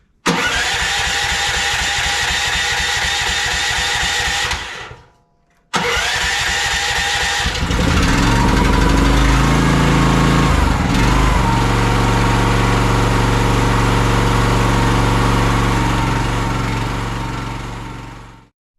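A Chinese AGROTK H12 mini excavator's small engine cranks and chugs for several seconds, briefly cuts out, then restarts and settles into a loud, steady idle before winding down and stopping.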